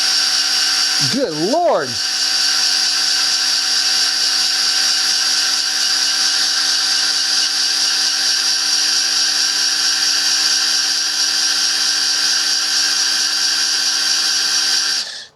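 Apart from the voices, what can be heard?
power drill on high torque, priming small-block engine oil pump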